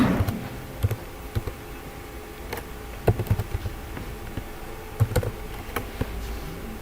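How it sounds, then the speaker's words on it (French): Keys tapped on a computer keyboard while entering an IP address for a Nagios network monitoring server, as scattered short bursts of clicks with brief pauses between them, close and fairly quiet. "On va taper l'adresse IP de Nagios."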